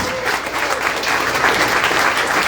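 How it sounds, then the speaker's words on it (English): Steady crowd applause fills a campaign launch event for a mayoral candidate in Oakville, a dense, continuous clatter of many hands lasting throughout without pause. "Let's say a big round of applause to them"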